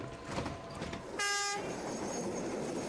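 A last metro train at night runs past with a steady rumble, a loud tonal horn blast cutting in for a moment midway, then continued rolling noise.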